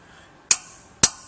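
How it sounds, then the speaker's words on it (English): Two sharp metallic clinks about half a second apart as a tool works the set screws on a Grundfos CR pump shaft seal, each ringing briefly and close up in a quiet room. "To remove the shaft seal, we'll start by taking out these 3 set screws."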